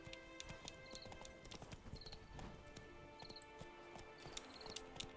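A horse gallops in the video game The Witcher 3, its hooves clip-clopping in a quick, continuous rhythm under faint game music and chimes, fairly quiet throughout.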